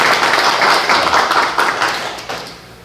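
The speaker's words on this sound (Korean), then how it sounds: "두 분을 위해서 박수 한번 더 부탁드리겠습니다" Applause from a seated audience at a community association workshop on airport compensation, a dense steady wash of many hands clapping that thins out toward the end.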